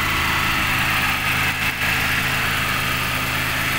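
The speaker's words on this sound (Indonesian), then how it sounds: "Ini teman-teman, mesin masih cukup halus," A 1985 Suzuki Swift Mk1 hatchback's engine idles steadily nearby, a continuous rumbling hum with a brief dip in the middle, no voices present.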